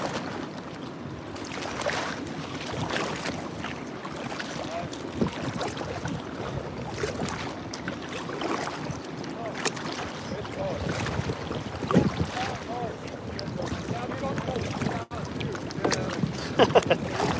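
Wind buffeting a small fishing boat on moving water, with constant rumbling wind noise against the microphone, water sloshing and occasional knocks and clunks against the hull, close and continuous.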